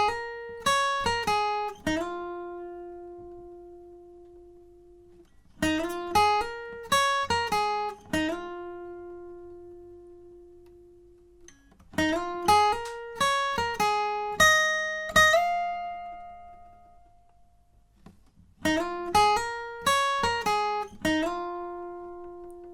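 Fingerpicked acoustic guitar plays the opening line of a song, four clear phrases of plucked notes with slides, each ending on a ringing sustained tone before a short pause, with no talk.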